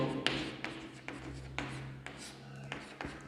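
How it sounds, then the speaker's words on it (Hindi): Hand writing on a board or paper during a mathematics lesson, soft scratchy strokes with faint taps, close and quiet under a low room hum. "तो लिख देता हूँ मैं"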